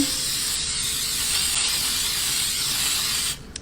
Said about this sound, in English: So I'm just going to lightly spray them